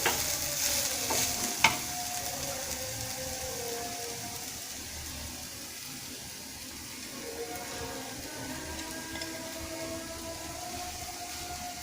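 Carrots and sugar cooking together in a pan for carrot laddu, with a faint steady sizzle and occasional scraping stirs throughout, one sharper clink near the start.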